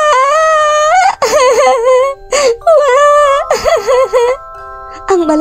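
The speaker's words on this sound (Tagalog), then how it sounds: "Ang malakas na iyak" A character in an animated bedtime story cries loudly, with long wavering wails and sobbing breaks, close and intense, repeating in several drawn-out bursts throughout.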